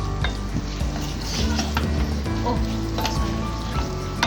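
Chicken crepe filling stirred in a hot pan, a spoon scraping and knocking against the metal over a steady sizzle, close and continuous with no voice.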